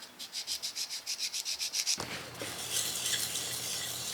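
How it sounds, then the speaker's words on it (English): Ladder Damascus steel is hand sanded with sandpaper in about sixteen quick, rhythmic rasping strokes, then a louder, rougher scraping takes over, close and without talk. "I'm just going to sand them up all the way to 2000 grit"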